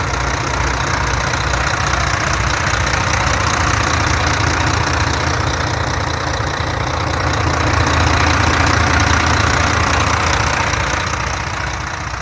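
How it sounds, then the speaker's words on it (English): A used bus engine idles steadily at close range, ticking over smoothly with a constant low rumble and faint rhythmic knock, no voices throughout. "at least you get to hear the engine running. Seems to be ticking over relatively smoothly."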